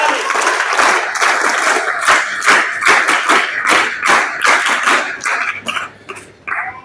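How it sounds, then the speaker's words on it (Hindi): A crowd of children claps loudly in a fast, rhythmic burst. The dense, pulsing applause holds a steady beat before it loosens and fades into scattered claps near the end. "जोरदार ताली"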